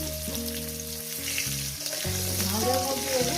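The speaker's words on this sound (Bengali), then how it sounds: "আলুগুলো দিয়ে আমি সুন্দর করে লাল লাল করে ভেজে নেব।" Potatoes fry in oil in a pan for a vegetable fish curry, giving a steady, close sizzle with low tonal music running underneath.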